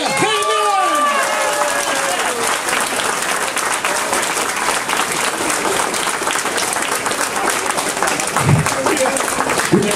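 An audience at a shopping centre in Trelleborg claps loudly and continuously for a singer, the dense applause filling the whole stretch after a brief announcer's voice at the start.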